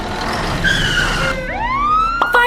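A cartoon police car siren sounds loud and alone, its tones sliding upward into a rising wail.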